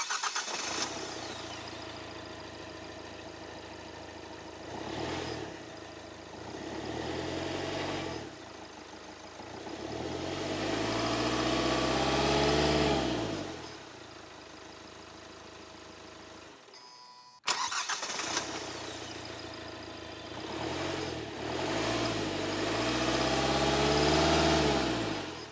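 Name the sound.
diesel car engine starting and idling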